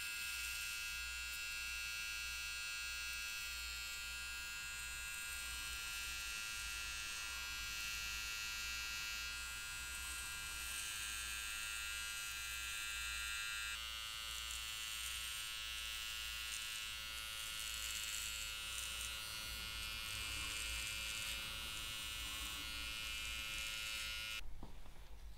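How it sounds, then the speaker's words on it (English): An electric hair clipper trims the hairline at the back of the neck, a steady close buzzing hum running continuously with slight shifts in tone as the blade moves, no talking. "It's a good idea to flip your clipper over and push it in so that you can see the blade pushing towards the"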